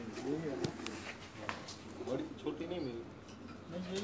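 Pigeons coo softly on a rooftop loft, their low rolling calls repeating in short bursts, with a few sharp knocks and rustles nearby and a voice speaking at moments.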